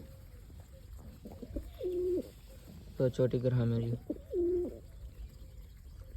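Domestic pigeons in a kabutarbazi pigeon-keeping setting coo close by in soft, low, throaty bursts, with one fuller coo in the middle, while someone talks over and between them.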